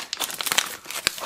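A plastic candy wrapper crinkles loudly and close as it is pulled open, in quick irregular crackles and crunches with a few sharper snaps and no speech.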